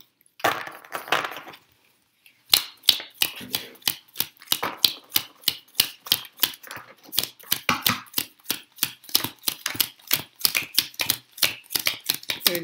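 Playing cards being counted out one by one after a home game of War make a fast, steady run of crisp flicks and snaps, close and clear, following a short quieter stretch at the start.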